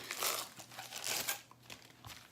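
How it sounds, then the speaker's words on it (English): Crinkly plastic wrapping peeled from paintball barrel parts, with soft crackling bursts close by at low volume. "I'll put this here so you guys can eyeball it up while I go ahead and unwrap these things."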